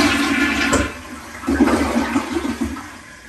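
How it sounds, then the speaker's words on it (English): A newly installed toilet flushes for the first time, with a loud close rush and gurgle of water that swells and then drains steadily throughout, without any speech. "Gentlemen, that is a functioning toilet. First flush."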